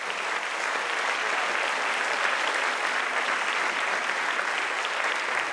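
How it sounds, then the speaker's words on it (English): Steady, sustained audience applause at a string orchestra concert for teachers and students, dense even clapping throughout with no break. "I want to say one more round of applause for all the teachers, all the students and everybody"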